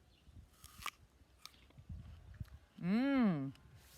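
Close, quiet crunching and biting sounds in short bursts, followed by a brief rising-and-falling vocal sound.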